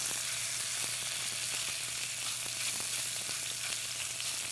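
Walleye cakes fry in olive oil in a pan, giving a steady, close sizzle with faint crackles throughout and no talking.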